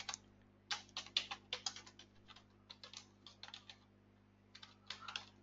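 Quiet, close computer keyboard typing of a Sqoop import command, in irregular bursts of quick keystrokes with brief gaps between.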